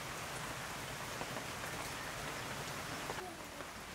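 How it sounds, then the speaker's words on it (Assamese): Rain falls outdoors in a steady, even patter on surfaces, soft and continuous, with no voices or thunder. "বৰষুণ এতিয়া বৰষুণ দি আকৌ ৰ'দ দিয়ে"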